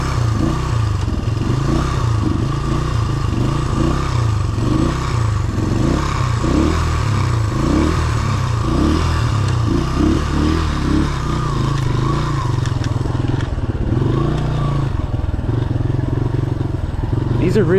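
A cold 1970s Honda XL Enduro motorcycle engine idles with the choke on while warming up, a steady close, loud chugging rumble that runs throughout with light mechanical clatter.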